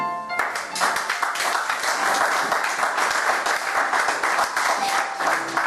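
A church congregation applauds in dense, sustained clapping that fills the whole stretch, with voices mixed into the crowd noise.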